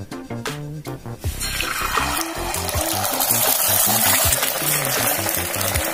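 Beaten egg with a little salt poured into a hot pan, a close, steady sizzle and liquid hiss that swells after a few soft knocks and holds loud and continuous, with a low voice talking underneath.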